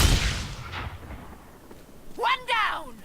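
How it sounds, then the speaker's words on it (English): An explosion goes off in Dragon Age Inquisition with a loud opening boom that rumbles and fades over about a second, followed by a spoken voice. "I'll just make that explode."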